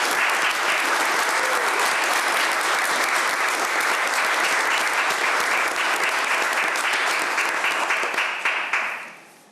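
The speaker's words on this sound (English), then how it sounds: "I think he still deserves applause." Sustained applause fills a village board meeting room, a dense, even roar of clapping from the audience lasting about nine seconds before tapering off quickly at the end.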